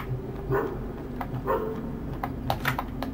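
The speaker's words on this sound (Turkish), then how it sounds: "Aa, köpek." Dog barking in the horror game Graveyard Shift, a few short muffled barks spaced across the clip over a low ambient hum and soft clicking.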